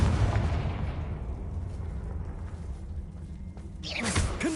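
A Confringo fire spell blast in a Hogwarts wizarding game, a loud booming burst fading into a rumbling low tail, followed by a sharp crackling flare near the end.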